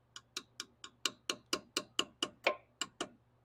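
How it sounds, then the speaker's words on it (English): A flattened old bolt taps a seal into a Mopar 727 transmission: about thirteen sharp metallic knocks in an even, steady rhythm, close and clear against a faint hum. "I'm just going to use this to tap it in to get it started."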